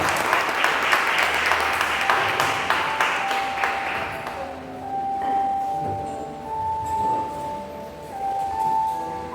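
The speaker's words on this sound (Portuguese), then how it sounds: "Aplauda o nome santo do Senhor" A church congregation claps loudly for about four seconds, then the applause fades into room murmur with a sustained tone from a keyboard or organ rising underneath.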